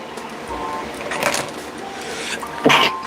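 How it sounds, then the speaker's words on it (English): A single sharp sneeze bursts out near the end, preceded by a softer breathy catch, over faint room noise. "Oh, man, I had to sneeze there."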